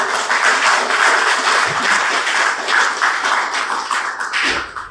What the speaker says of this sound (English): I think you should give her a round of applause